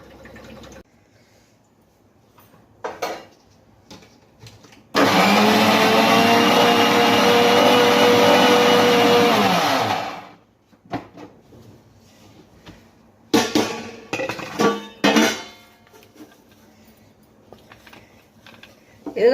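An electric mixer grinds cumin, fenugreek and urad dal for gongura chili powder, roaring loud and steady for about five seconds, framed by scattered taps, clicks and handling knocks before and after.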